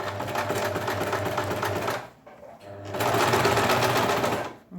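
A sewing machine runs basting stitches along a sleeve's seam allowance in two steady, close bursts of rapid mechanical whirring, separated by a short pause.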